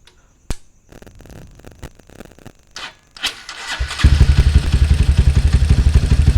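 Motorcycle engine with a PWK carburetor kick-started after some clattering and mechanical handling noises, then catching and idling with a steady, loud, rapid thumping pulse close by.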